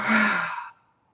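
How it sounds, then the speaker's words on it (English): A deep, breathy exhale during a guided breathing exercise, a single close sigh-like rush of air that fades out within about three quarters of a second. "Deep breath in and exhale."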